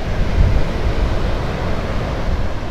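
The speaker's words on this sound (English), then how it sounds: "Those waves are breaking on the sandbars." Ocean surf breaking over sandbars along a beach on Long Beach Island, New Jersey, a steady loud roar of crashing, washing waves with wind rumble throughout and no voices.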